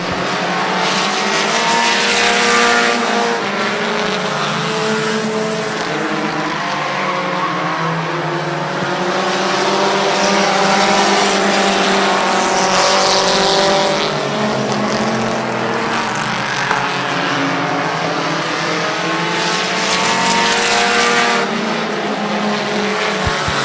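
Race cars roaring around the Midvale Speedway oval, engines rising and falling in pitch as a pack circles continuously, loud and near with tire noise layered in throughout.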